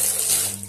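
A hotel bathroom tap runs steadily, a close, constant rush of water with no one speaking.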